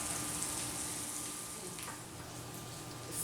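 Butter, garlic and extra virgin olive oil sizzle steadily in a pan while steak cooks, a constant close crackling hiss with no talking.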